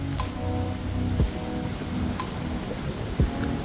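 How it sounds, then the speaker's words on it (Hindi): Steady monsoon rain hissing on surfaces at a beach in Gokarna, a dense continuous patter with a couple of brief louder knocks, no voices. "बारिश बारिश बारिश"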